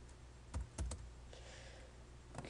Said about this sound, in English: I'm going to just type something.